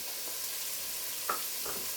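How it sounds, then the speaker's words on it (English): Soft, steady sizzling of onions stir-frying in a pan, with faint scraping stirs now and then. "we're just going to keep stir frying until we get a close to a golden brown"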